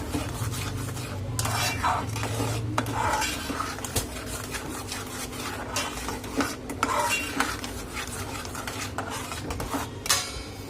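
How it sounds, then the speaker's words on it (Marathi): Mango shira being stirred in a pan as hot milk is mixed in, with repeated scraping and clinking of a utensil against the metal pan and a faint sizzle underneath, close and steady. "गरम दूध आपण यामध्ये घालून घेणार आहोत आणि छान याला मिक्स करून घ्यायचं आहे"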